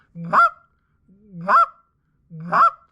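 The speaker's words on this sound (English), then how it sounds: "that's how it should start off right away, the cluck" Three separate cluck notes on a short reed Canada goose call, each a low rising grunt breaking into a sharp honk, loud, close and alone with pauses between.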